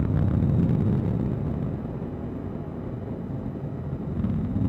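Atlas V rocket engines roar during a launch ascent as a steady, broad, rumbling thunder heard from a distance, continuous and without voices.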